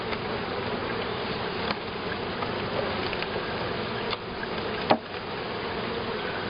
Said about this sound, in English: I've got bees on it.